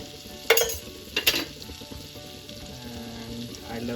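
Butter and a little oil sautéing in a pan for a cheesy vegetable elbow pasta, a steady soft sizzle with a couple of sharp utensil clatters near the start.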